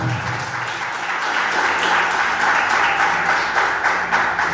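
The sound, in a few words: congregation applauding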